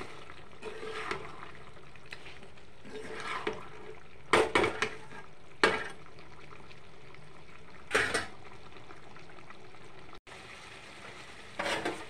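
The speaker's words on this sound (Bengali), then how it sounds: "রসুন রেখেছি, এগুলো দিয়ে দেবো। দিয়ে ভালো করে নাড়াচাড়া করবো।" Garlic, potatoes and onions for a mutton curry sizzle softly in a pan as a spoon stirs them, with several sharp scraping clanks against the metal over a constant low fry.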